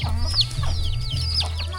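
Chickens cluck repeatedly and close by among farm animals in a rural village in Bouapha, a busy run of overlapping clucks and short squawks with no talking.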